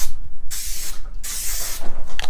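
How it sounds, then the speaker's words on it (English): Two or three short bursts of cooking spray hissing close up onto a baking sheet, each about half a second long, with a quiet pause between them. "I think I'm gonna just spray it with this. It's cooking spray and flour."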